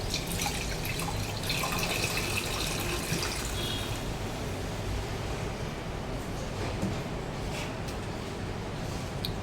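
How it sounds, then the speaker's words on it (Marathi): Water poured into a pan of sautéed vegetables, with a steady liquid splashing and trickling that is brighter at first and then settles into a softer, continuous wash. "असं हे परतून घेतलं का आपण याच्यामध्ये पाणी टाकणार आहोत."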